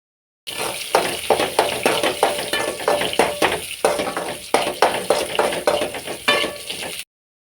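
Onion and curry leaves frying in hot oil with mustard seeds in a village kitchen, a crackling sizzle pulsing with regular stirring strokes and light clinks of a utensil against the pan.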